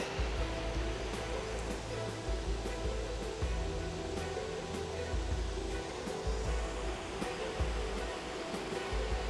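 Water flowing steadily through an alpine meadow in Adelboden, Switzerland, a continuous broadband rushing that stays even and fairly close throughout, with no voices.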